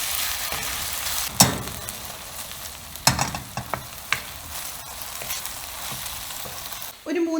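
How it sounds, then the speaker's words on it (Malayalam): Beef pieces stir-fry in a hot pan for Mongolian beef, a loud, steady sizzle punctuated by sharp scraping and clattering stirs, with a sudden burst of noise at the very end. "ഒരു 3-4 മിനിറ്റ് സ്റ്റിർ ഫ്രൈ ചെയ്ത് കഴിയുമ്പോൾ നമുക്ക് ബീഫ് വേറൊരു പാത്രത്തിലേക്ക് ട്രാൻസ്ഫർ ചെയ്യാം"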